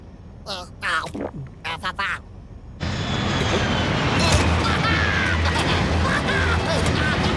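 Airplane engine roar in a cartoon with rabbits taking over a president's plane, a loud steady broadband drone starting abruptly after brief speech and continuing to the end, with crashes and voices over it.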